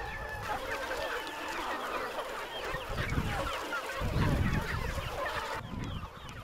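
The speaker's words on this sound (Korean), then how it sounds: "다른 농가와 달리 닭들은 산 여기저기를 자유로이 오가며 주인이 주는 먹이를 받아 먹었는데" Free-range chickens roam a hillside farm, a busy outdoor chorus of clucks and squawks running steadily throughout, with a louder, rougher stretch near the end.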